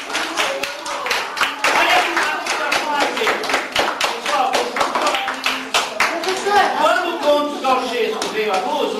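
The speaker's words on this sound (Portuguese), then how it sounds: "Palmas para a Bruna." Schoolchildren clap in a fourth-grade classroom at a municipal school in Diadema, a dense run of sharp, uneven hand claps lasting several seconds, with children's voices chattering underneath throughout.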